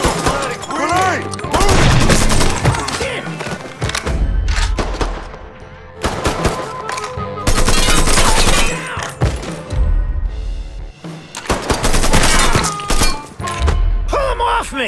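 Loud bursts of machine-gun and rifle fire in a mafia shooter game come in repeated volleys separated by short lulls, with thuds and shouting voices mixed among the shots.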